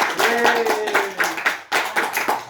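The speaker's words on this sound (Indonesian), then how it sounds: "Aplaus untuk kita semua." Brief burst of clapping hands in a group counselling session, mixed with voices, with scattered claps continuing in bursts over a couple of seconds.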